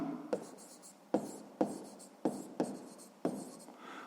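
Pen strokes scratching across paper as a math proportion is written out for a sixth-grade exercise, several distinct bursts of writing with short pauses between them, close and clear with no talking.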